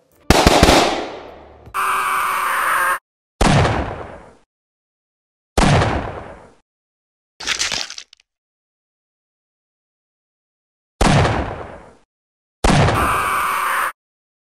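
Musket gunfire in a LEGO American Revolution battle animation for Bunker Hill: a series of loud, close volleys, each a sharp blast with a ringing decay, spaced several seconds apart with silent gaps between.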